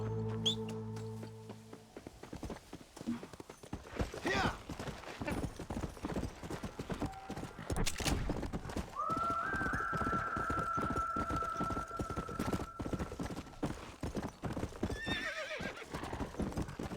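Horse hooves clip-clop on the ground in the Red Dead Redemption video game, with a horse whinnying; steady, rhythmic hoofbeats that carry on for a long stretch, fairly quiet.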